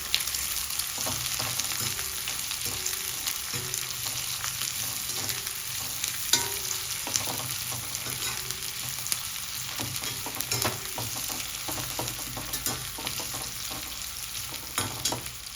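Onions fry in oil in a small kadai, a continuous close sizzle broken by frequent spatula scrapes and clinks as they are stirred.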